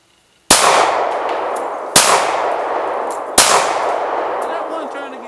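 Three loud gunshots fired at a target outdoors, each a sharp crack followed by a long rolling echo that fades slowly, spaced about a second and a half apart with no talking.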